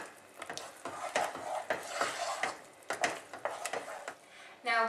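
Spoon stirring mango puree into rice pudding in a pot, repeated soft scraping and thick wet swishes in an uneven rhythm, close and moderately quiet, with a brief voice at the end.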